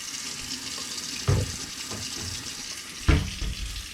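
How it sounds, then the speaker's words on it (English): Hot water runs from a kitchen tap in a steady, moderate rush, with two brief louder splashes as it hits a pan. "Get my water over here going,"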